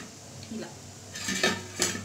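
A metal spoon stirs gulab jamun mixture in a large pan, giving a few close, sharp scraping clinks against the metal, with quieter rustling in between.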